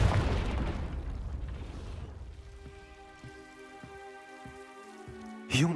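A Confringo fire spell bursts in the Hogwarts Legacy video game, a loud rumbling blast that fades into a soft ringing, magical tonal tail with a few light taps, then a sharp bright flare at the end.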